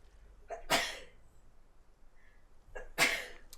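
Two sharp sneezes about two seconds apart, fairly close, in an otherwise quiet setting.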